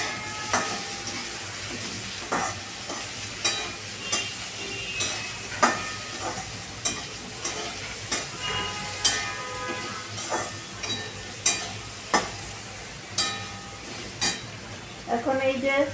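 Mixed spices sizzle steadily in a pan of shim, potato and methi shak curry while a spoon strikes and scrapes the pan in a regular, roughly once-per-second rhythm of sharp clinks, close and clear.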